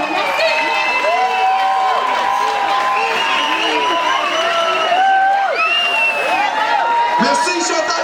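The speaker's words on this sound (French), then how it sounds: "on les applaudit" A festival audience at an outdoor Saint-Jean celebration in Montreal's Villeray claps and cheers steadily, with whoops and shouting voices rising over dense, continuous applause.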